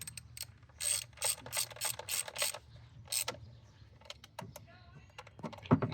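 Ratchet wrench tightening the ignition coil pack bolts on a 2001-2007 Dodge Grand Caravan, heard as a run of quick close ratcheting clicks in bursts, followed by scattered fainter clicks and a final sharp tap over a low engine-bay hum.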